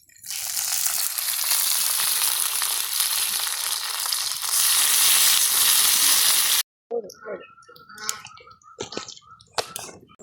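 Plantain fried in a little oil with garlic, curry leaves, mustard seeds and urad dal, in a quiet village kitchen in Sri Lanka: a loud, close, steady sizzle that stops abruptly, followed by clinks and stirring noises.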